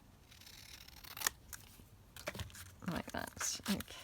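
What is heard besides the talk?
snipping paper pieces out with scissors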